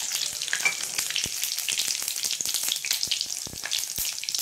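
Cumin seeds and a bay leaf sizzle and crackle in hot oil in a pan, a dense, steady frying hiss with sharp little pops throughout, close and fairly loud, with no talking.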